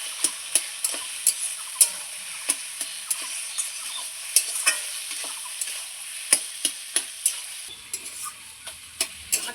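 A fish head fries in a pan with chal kumra (ash gourd), a steady close hiss of sizzling broken by frequent sharp scraping clicks of stirring.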